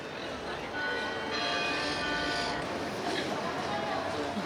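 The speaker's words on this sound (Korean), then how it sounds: "성당 종소리를 들으며 나도 잠시 감상에 빠져본다." Church bells of Almudena Cathedral in Madrid ring out with sustained overlapping tones, heard outdoors over a busy background murmur.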